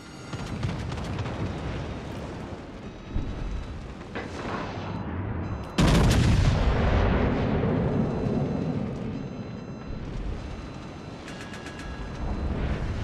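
Naval artillery thunders in World of Warships: Legends aboard the Nelson, with a smaller boom followed by a massive close salvo that rumbles and decays over several seconds amid ongoing battle noise.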